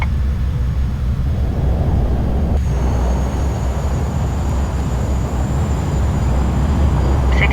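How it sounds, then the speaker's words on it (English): Simulated jet airliner landing in Flight Simulator X with reverse thrust engaged: a steady, loud broadband engine roar and rumble that holds constant throughout, with no talking. "Now I'm going to kill the throttle all the way. It'll flare. Bleed off the extra speed. Engage reverse thrust."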